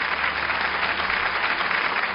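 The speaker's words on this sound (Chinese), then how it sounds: "掌声送给他们" Audience at the Suzhou TV storytelling twentieth-anniversary awards ceremony applauding, a dense, even burst of clapping that holds steady across the short stretch.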